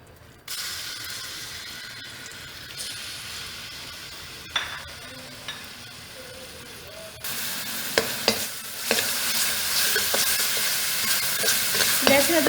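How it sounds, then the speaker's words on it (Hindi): Garlic and ginger frying in oil in a wok: a steady hiss of sizzling with occasional scraping and clinks of a spatula, growing louder and brighter partway through as the frying intensifies. "और इसमें लहसुन अदरक को थोड़ा सा फ्राई करें।"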